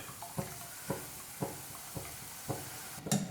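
Spoonfuls of boondi batter drop into hot oil for Kerala-style mixture, giving a steady series of soft sizzling taps roughly half a second apart, each followed by a gentle frying hiss.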